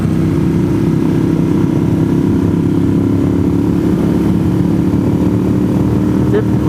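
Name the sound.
motorcycles riding past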